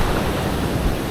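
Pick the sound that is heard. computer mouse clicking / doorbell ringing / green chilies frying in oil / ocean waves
ocean waves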